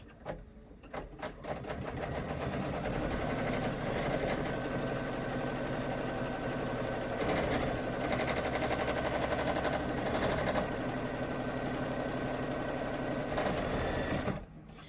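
Embroidery machine stitching down appliqué fabric on a pocket project, a continuous fast mechanical whirring and needle clatter running steadily for most of the stretch, close and even, no talking.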